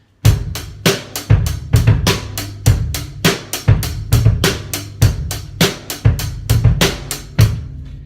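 A drum kit plays a steady beginner rock beat, kick and snare alternating under constant cymbal hits, loud and close with no voices.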